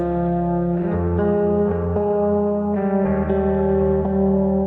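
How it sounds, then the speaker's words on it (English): Thick, layered electric guitar chords ring out with distortion and reverb, shifting through a sustained progression without pause. "The guitars, they just sound like this."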